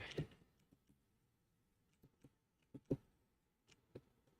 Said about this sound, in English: sorry, I'm like typing.